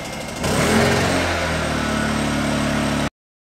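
A heated 2:1 Linelazer line striper's small gas engine is pull-started, catching with a burst and then settling into a steady, close, moderately loud idle that runs for about three seconds before cutting off abruptly.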